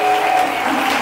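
A church congregation claps loudly together in a dense, continuous burst of applause, many hands close and steady for about a second.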